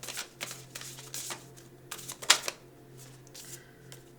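Tarot cards being shuffled and drawn, with a run of soft, papery riffling bursts and one sharper snap midway, close and fairly quiet.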